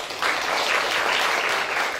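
Attendees of an international summer course in development economics clap for a speaker, Dr. Miguel, in a short, even burst of applause that starts after a brief pause and holds steady.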